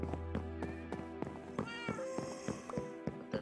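Cat meows from a video game sound out in short repeated calls over a steady game backdrop with music tones, with no talking.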